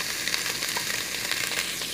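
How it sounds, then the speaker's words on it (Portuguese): Meat frying in oil in a pan for lentil soup, a dense, steady crackling sizzle that stays close and constant, with no talking. "Então vou fritar aqui a nossas carnes e já volto com vocês."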